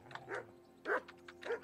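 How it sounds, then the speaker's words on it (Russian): In the video game Kingdom Come: Deliverance, a dog gives three short, close barks or yips spaced roughly half a second apart, clear and alone. "О, собака, та самая собака."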